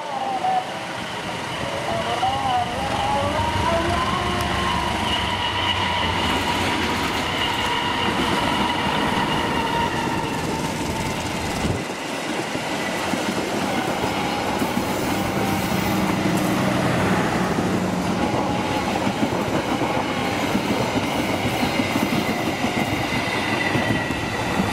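Indonesian passenger train rolling through a large curve at Cikarang, with a steady loud rumble and clatter of railcars lasting throughout, wheel squeal and grinding rising over it, and voices faintly underneath.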